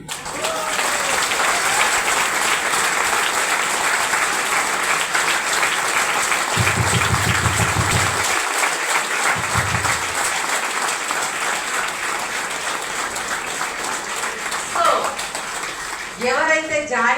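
Loud, sustained clapping from a meeting audience in Karimnagar fills the space without a break, with a few short low thumps and brief voices near the end.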